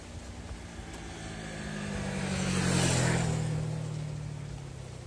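Four-wheeled cars passing on a flat road, a steady engine and tire roar that swells as a vehicle approaches, peaks near the middle and fades away, with faint background traffic and no talk.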